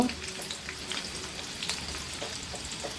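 Raw onion fries in hot oil for a chicken roast, giving a steady close sizzle with scattered crackles and light stirring scrapes, moderately loud and without speech.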